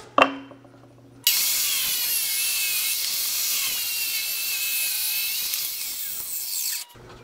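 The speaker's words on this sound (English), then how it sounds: "I had to lock the switch on the saw down with a little C-clamp." A table saw with its switch clamped on cuts a wooden board for a heavy-duty porch swing, a loud steady high whine lasting several seconds that starts abruptly after a short knock and cuts off at the end.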